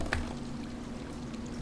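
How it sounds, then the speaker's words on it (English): Water pouring in a horror video game, a steady liquid stream running continuously at moderate level with a low constant hum beneath it. "Who's playing with the water?"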